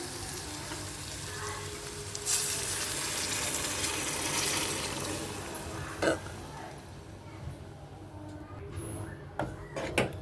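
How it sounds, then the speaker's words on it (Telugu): Water poured into a hot pan of frying potato curry for puri gives a loud, steady sizzling hiss that slowly fades, with a few clinks near the end and voices in the background. "ఇప్పుడు వాటర్ వేస్తాను ఎందుకంటే ఆలు ఉడకాలి కాబట్టి"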